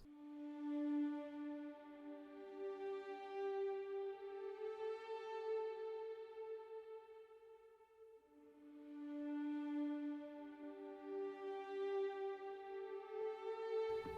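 Quiet sampled cello notes from the Chamber Waves library play soft sustained bowed tones, one long swelling phrase followed by another, with no voices.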